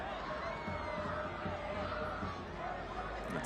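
A soccer stadium crowd of Orange County SC fans fills the air with a steady, distant roar and chatter, with a voice speaking over it.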